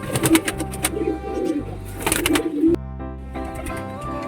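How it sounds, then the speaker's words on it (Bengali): Pigeons cooing close by, several rounded low coos in short bursts among soft rustling and a steady background hum. "এটা হচ্ছে মাদি পায়রা।"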